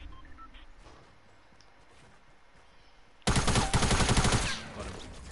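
Gunfire in the Fortnite battle royale game breaks out suddenly after a quiet stretch, a loud dense burst of rapid shots that keeps going to the end.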